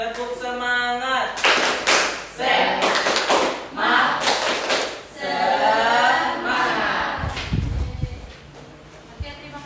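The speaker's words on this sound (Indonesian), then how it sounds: "Tepuk semangat." A classroom group in a teacher-training lesson claps a rhythmic spirit clap in short bursts of sharp, close, loud claps between spoken chanted calls and responses.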